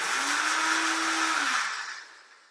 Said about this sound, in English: put it in my blender